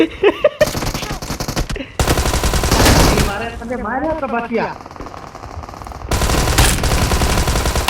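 Rapid automatic gunfire rattles in long bursts during a shooter video game, with a break where someone talks and shouts before the firing resumes loud and close.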